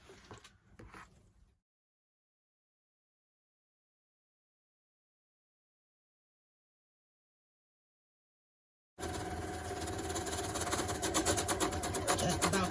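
Sewing machine stitching a 1.5-inch curtain valance seam, a steady loud mechanical run starting abruptly after a brief earlier burst and long silence.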